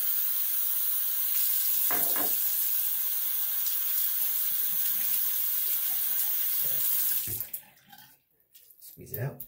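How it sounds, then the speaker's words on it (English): A hot water tap runs steadily into a cup with a constant hissing pour, then cuts off, leaving a few faint clinks and handling sounds. "Fill up my cup here with some hot water."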